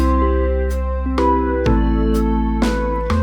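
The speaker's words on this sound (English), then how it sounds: "that was the original drums" Original drum track playing a steady, conventional beat with clear kick hits and crisp cymbal or hi-hat strikes over sustained tonal backing, loud and alone without talk.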